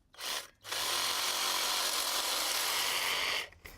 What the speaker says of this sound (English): I'm just going to cut it off using my reciprocating saw and a metal cutting blade